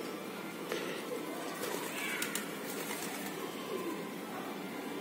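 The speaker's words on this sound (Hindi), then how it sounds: "फ्रेंड्स कबूतर इतने हैं यहाँ पर," Pigeons on a city rooftop under clear winter sun, soft cooing and fluttering mixed into steady outdoor ambience, with a few brief sharper calls nearby.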